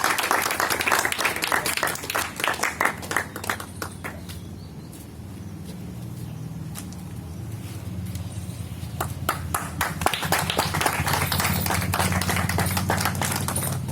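Applause from an audience welcoming a guest at an Independence Day celebration event, dense clapping loud at the start, easing off midway, then swelling again toward the end.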